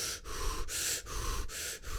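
A person imitates pained breathing with a series of sharp, rhythmic gasping breaths, about five loud inhales and exhales close up, with no other sound.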